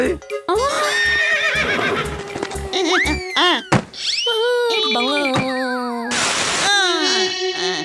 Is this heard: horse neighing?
yes